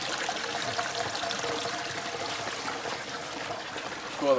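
Spring water trickles and pours out of rock at a shaded desert creek at Seven Springs, Arizona, a steady soft gurgle heard at close range with no talk.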